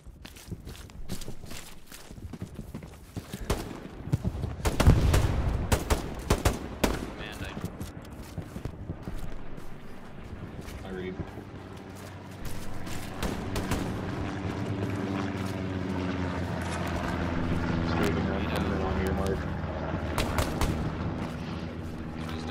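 Gunfire and artillery fire in a video game battle, with a dense burst of sharp shots and booms early on, then rumbling combat noise under voices talking over the action.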